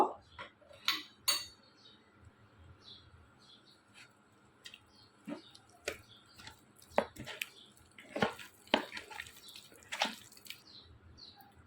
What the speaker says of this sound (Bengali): সামান্য একটু ময়দা একদমই হালকা এখন এটা মাখিয়ে রেখে দিব